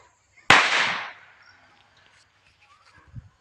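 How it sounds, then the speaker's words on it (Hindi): A single Diwali firecracker bursts outdoors with a sharp, loud crack that trails off into a crackling tail, followed by faint, scattered sounds. "टाइम पटाखा फोड़ेंगे यहीं पर।"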